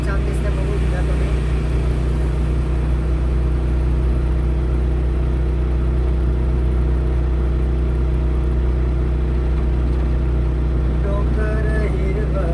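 A Porter mini truck climbs uphill toward the Katraj tunnel in Pune, its engine holding a loud, steady low drone with constant road rumble throughout.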